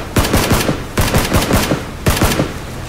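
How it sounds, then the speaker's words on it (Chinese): Gunfire in the PUBG video game crackles in three quick automatic bursts, each a rapid string of loud, sharp shots close up, with no talking. "那我开一枪可以吗？"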